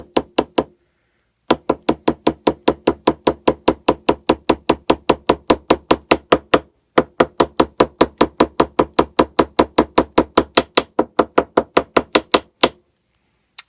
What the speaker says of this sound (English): using a smaller hammer, we're going to bang this wedge into that pocket using small taps, but quick taps